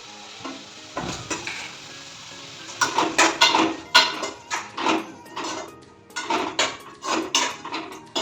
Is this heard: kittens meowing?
no